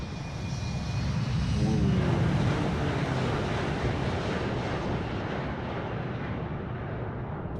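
An Embraer E195 jet in a flight simulator game roars past in a flyby, a loud broadband engine rumble that swells early and then holds steady, dense and alone without talk.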